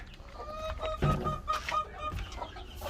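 A nesting turkey hen clucks in a farmyard in short, soft, repeated calls with a few louder pulses, close by and without talk.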